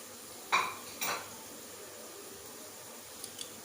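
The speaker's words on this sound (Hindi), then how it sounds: "अभी मैंने दूसरी कढ़ाई रख ली है, इसमें हम चिकन को फ्राई कर लेते हैं" A metal spoon knocks twice against a kadhai while chicken is stirred and fried for a desi chicken masala, giving two sharp clanks close by, then a quiet hiss with faint ticks.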